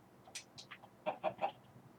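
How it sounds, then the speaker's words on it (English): Chicken clucking in the video game Minecraft: a few soft, scattered clucks, then three louder, evenly spaced clucks close together near the end, with no talking. "Oh, hello, chicken."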